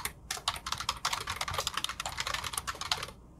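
Rapid, irregular clatter of keys as code is typed on a computer keyboard, close and fairly steady for about three seconds, then stopping.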